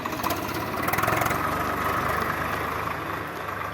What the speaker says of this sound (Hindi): इतना फ़ायदा तो है ट्रैक्टर आने से कि जो है खेत जो है बहुत अच्छे ढंग से जुताई हो जा रही है